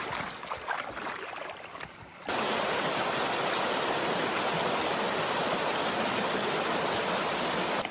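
A rainforest creek flows steadily as a loud, constant broadband rush of water close to the microphone. It is briefly quieter and uneven at the start, then jumps to a full, continuous roar.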